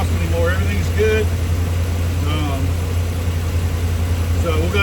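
Ram 5.7 Hemi V8 idling steadily after an exhaust manifold gasket replacement, a smooth low drone with no ticking, running continuously close by while someone talks over it.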